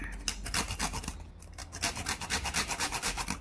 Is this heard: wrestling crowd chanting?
no